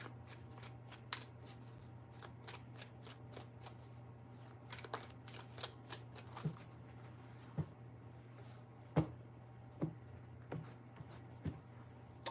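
Tarot cards shuffled alone in a quiet room: a steady run of crisp riffling snaps and soft slaps, several sharper taps spaced irregularly over a low constant hum.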